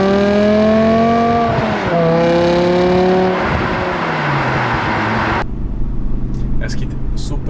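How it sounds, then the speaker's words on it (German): A BMW M5 Touring estate with its original exhaust system accelerates loudly. The engine note climbs in pitch and drops at each gear change, then cuts to a quieter background rumble toward the end. "Das ist die Original-Auspuffanlage."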